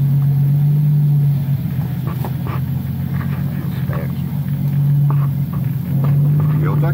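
Brazilian-built Toyota Supra with a 600 hp turbocharged engine rumbles loud and near, a steady deep drone with a strong low hum that dips briefly and returns, heard from on board during a drive.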